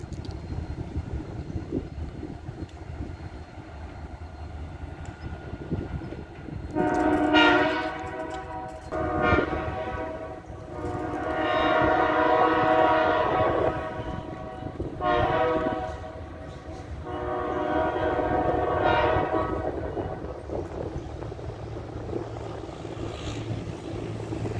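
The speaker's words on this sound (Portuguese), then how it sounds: "Legal a buzina, nunca vi trem buzinar igual esse." A distant horn from two SD40 locomotives blows in several long blasts with short gaps, loud and rich over the low rumble of a passing freight train.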